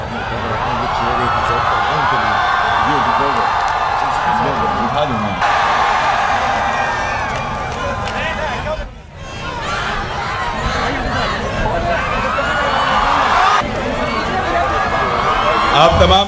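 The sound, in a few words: crowd cheering and applauding a welcome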